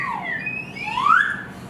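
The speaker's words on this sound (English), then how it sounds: "So I got this slide whistle here." A slide whistle glides down, then swoops up and back down in pitch, a single breathy tone played close and fairly loud for under two seconds.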